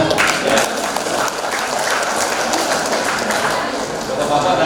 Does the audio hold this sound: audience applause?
yes